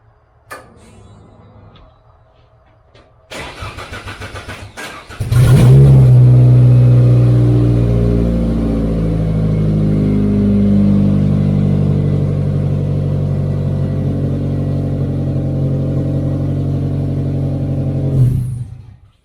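A car engine cranks briefly and catches, then settles into a steady loud idle that runs for about thirteen seconds before cutting off, with a few clicks heard before the start.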